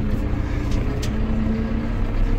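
A Valtra BH154 four-cylinder tractor drives along with a steady, loud diesel drone and a constant low rumble, close up and without speech.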